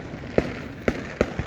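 Fireworks show with bursts raining sparks, three sharp bangs about half a second apart followed by a softer fourth, each with a brief crackling tail.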